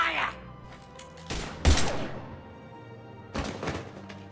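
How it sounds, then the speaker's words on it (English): Gunfire in a Mass Effect 3 firefight comes as a few loud, sharp volleys spaced over a few seconds, each a hard crack with a thudding low edge, over faint background game sound. "Now open fire!"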